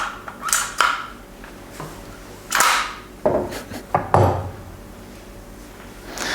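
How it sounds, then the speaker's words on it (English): The bolt of a Strasser bolt-action rifle being cycled up close, a series of sharp metallic clacks and sliding scrapes in quick irregular succession with short pauses between strokes, no talk. "the bolt movement is very, very smooth"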